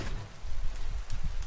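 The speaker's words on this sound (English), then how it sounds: "Alrighty, it's raining." Rain falls in the video game Pokemon Shield, on the Isle of Armor: a soft, steady hiss of rainfall with faint patters, fairly quiet, and no voices.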